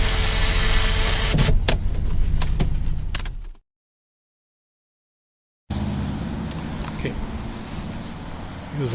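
Electric power windows on a 1973 Dodge Charger SE Brougham, a loud motor whirring for a few seconds, then a sudden stop into silence before the whir starts again, recorded up close.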